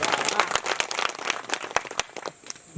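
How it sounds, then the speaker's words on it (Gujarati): A devotional gathering's audience claps in a short, dense burst of applause. The sound is close and fairly loud, then thins out and fades near the end. "ફરી એકવાર તાળીથી વધાવો છો"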